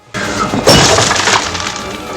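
A sudden crash of glass shattering in a film, loud and close, followed by a spray of tinkling shards that trails off.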